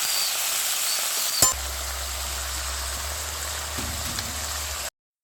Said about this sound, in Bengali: এদিকে আমি বিন, গাজর আর ফুলকপি ভাজা করছি